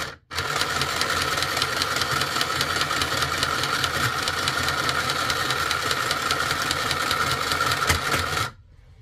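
A tiny $30 serger sewing machine runs at speed for about eight seconds, a loud, rapid mechanical chatter close up that starts abruptly and cuts off at the end.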